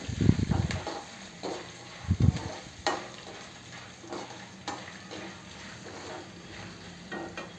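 Poha mixture being stirred with chili powder and turmeric in a pan, a few scraping strokes and soft clatters early on, then quieter faint sizzling.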